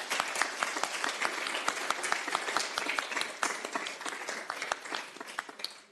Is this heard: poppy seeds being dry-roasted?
no